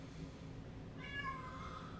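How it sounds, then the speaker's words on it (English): A cat meows from outside a closed door, a faint drawn-out call rising over a low background hum, heard once near the middle with no speech. "you can hear my cat, I'm sure, out there at the door."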